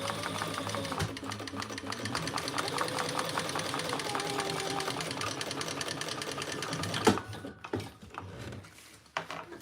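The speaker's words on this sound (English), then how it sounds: "I'm top stitching on the top there with that seam underneath" A sewing machine top stitches a seam, running in a steady, close mechanical whir for about seven seconds before stopping, followed by a few scattered clunks and handling noises.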